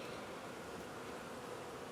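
Honey bees humming at a winter hive being fed dry sugar, a steady dense buzz with no breaks, close and even throughout.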